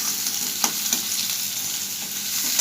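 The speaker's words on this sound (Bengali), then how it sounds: "পেঁয়াজটা ভাজা হয়ে গেছে, একটু লাল লাল করে ভেজে নিয়েছি" Onions fry in a pan, giving a steady close sizzle with a couple of soft stirring clicks and no voices.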